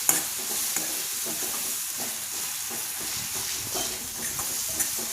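A spice mixture of red chili powder, coriander powder and a pinch of turmeric sizzles steadily in a pan while being stirred, a close, continuous hiss with faint scraping.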